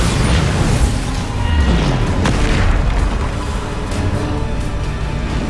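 Bombarda blast spell in the game Hogwarts Legacy, loud booming explosions with a sharp crack, part of a dense continuous barrage of heavy impacts and rumble.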